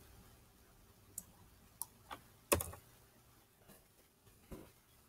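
Sparse computer keyboard key presses, a handful of separate clicks spaced irregularly, quiet and close against a low background hiss.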